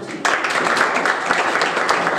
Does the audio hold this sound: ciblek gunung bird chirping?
no